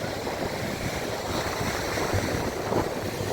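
Sea waves at Kovalam beach make a loud, steady broadband wash and roar, close by and continuous, with wind buffeting the microphone.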